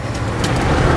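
Steady engine drone and road rumble from a 1986 Ford F-150 pickup truck driving along, heard from inside with constant wind and tire noise.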